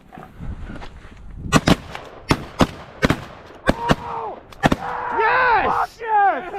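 Repeated shotgun blasts ring out over water during a snow goose hunt, about eight sharp, loud shots spaced irregularly, with goose honking and people's voices in between.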